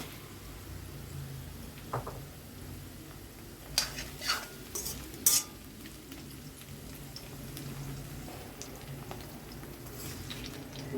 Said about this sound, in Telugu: క్యారెట్ ఫ్రై అయిపోతుందండి పచ్చిమిర్చి కూడా వేస్తున్నాను